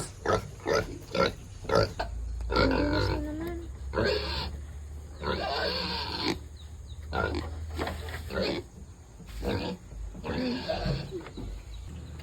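Pigs grunt and snort in repeated rough bursts close by, while a person briefly speaks alongside them.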